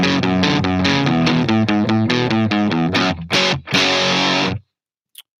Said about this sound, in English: let's see what the distortion does